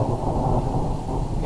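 Thunder rumbles low and steady through a rainstorm, heard while waiting for the northern lights, with a broad continuous roar and no voices.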